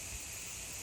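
Steam hissing out of the top vent of a pressure canner, a steady, continuous high hiss with no breaks, heard alone without talking.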